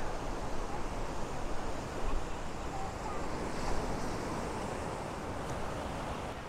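Waves wash steadily onto Rushikonda beach, a broad continuous roar of surf close by with gentle swells in loudness, mixed with some wind buffeting against the microphone.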